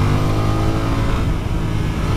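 A BMW F900R motorcycle engine pulls hard under acceleration on an open road, a loud, dense, continuous drone with a strong low rumble that holds steady throughout, close and without any speech.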